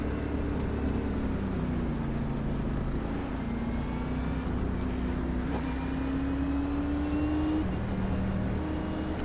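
NASCAR race car engine in the iRacing sim, a steady loud drone with gear-whine tones rising and sliding, as the heavy car idles and creeps along in formation before the start; no talking.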